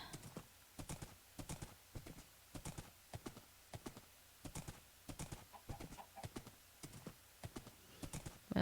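Horse hooves clip-clop steadily in Minecraft, a brisk repeating rhythm of quick hoof clusters, fairly close and clear with no talk.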